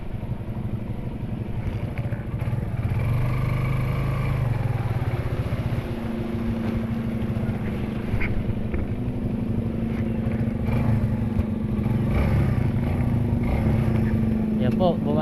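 Engine noise from traffic on a flooded road, including a motorcycle approaching, drones steadily and close throughout, with a rising engine tone near the middle while people talk.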